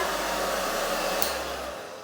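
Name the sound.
blow dryer turned on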